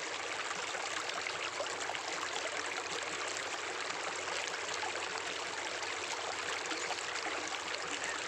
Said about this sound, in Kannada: ಬಾಯ ಜುಳು ಜುಳು ನೀರು ಬರ್ತಾವ